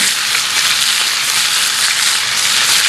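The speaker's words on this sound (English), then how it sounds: "I want to hear that sizzle." Steady, loud sizzling of bell peppers frying in a hot pan, a continuous bright hiss with faint crackles and no voices.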